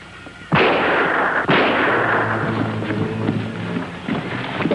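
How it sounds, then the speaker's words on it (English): A single gunshot cracks loudly in a jungle, then a second sharp report follows about a second later, each trailing into a long rumbling echo and outdoor wind noise, with no voices. "That shot came from over there."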